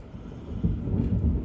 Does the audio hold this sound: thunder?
yes